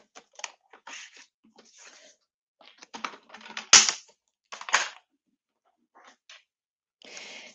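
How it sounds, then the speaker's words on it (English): Cardstock trimmed with a paper trimmer, a series of short dry crunching and slicing strokes with one sharper, louder cut in the middle, close and isolated against quiet. "Let me trim a little piece of this off."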